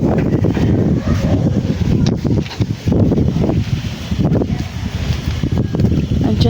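Gusty wind buffets the microphone in a constant loud rumble, rising and falling, with occasional rustling mixed in.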